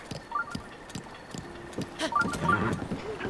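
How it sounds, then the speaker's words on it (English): Horse's hooves clip-clop across a bridge in the video game Zelda: Breath of the Wild, a quick rhythm of hoof beats with a whinny, faint and mixed with game sounds. "use the horse to cross the bridge"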